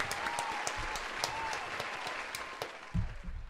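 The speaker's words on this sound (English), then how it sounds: "Get a round of applause for Alex." Applause from a live stream audience, a steady patter of clapping lasting a few seconds, moderately loud and fairly close, with a brief voice breaking through near the end.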